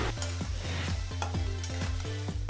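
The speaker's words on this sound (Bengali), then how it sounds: "এক মিনিট এইভাবে খুন্তি দিয়ে খুব ভালো করে নাড়াচাড়া করে নিলাম" Spatula stirring spices and cashew paste in a frying pan for potato dum, repeated rhythmic scraping strokes over a constant sizzle and a low steady hum, close by.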